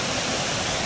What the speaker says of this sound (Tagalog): Itong falls na to.